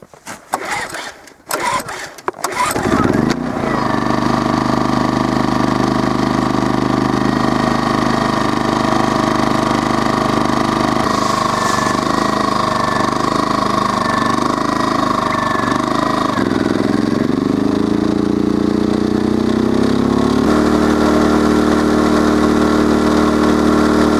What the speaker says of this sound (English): we'll try to make it run to see if it runs perfectly